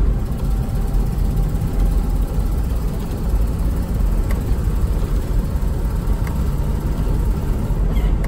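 A 1988 Land Rover Defender 130 V8 drives steadily in fourth gear, its engine a constant low, loud drone mixed with road and cabin rumble, without breaks or pitch swings.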